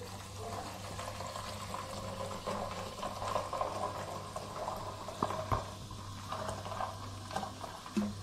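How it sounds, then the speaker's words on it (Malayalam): Soda pouring into a glass of mango mojito, a steady fizzy liquid stream with light patter and bubbling, close and moderately quiet, with no talking. "സോഡ നമ്മൾ ഒഴിച്ചു കൊടുക്കുകയാണ്."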